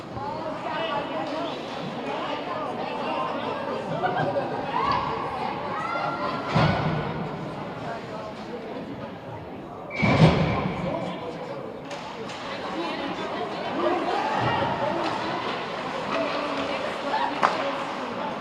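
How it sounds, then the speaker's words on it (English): Crowd of fans at a high school girls' hockey game, a continuous loud roar of cheering and shouting in an indoor rink with a few sharp thuds and bangs, and an announcer talking over it. "As you can probably hear, Matignon has brought some fans."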